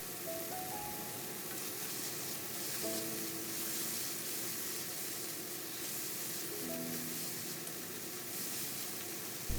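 Pork shreds stir-fried over high heat in a wok with dark soy sauce, garlic pushed on top, giving a steady loud sizzle throughout, with brief clinks of a spatula against the wok.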